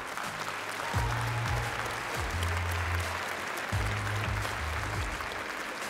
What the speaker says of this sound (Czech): Wow, já myslím, že si slouží spontánní potlesk.